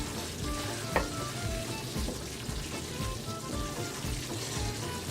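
A roux for Cajun chicken and sausage gumbo is stirred constantly in a pot, giving a soft steady sizzle with scraping strokes and one brief clink against the pan.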